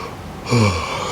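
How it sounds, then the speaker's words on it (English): A person yawning, a short breathy intake swelling into a low, voiced groan lasting under a second, close and fairly loud. "Sorry for yawning."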